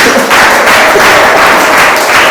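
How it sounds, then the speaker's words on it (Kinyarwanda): A church congregation clapping for God during a Kinyarwanda sermon, loud dense rhythmic applause filling the space continuously and close by. "Mukomere Imana amashyi."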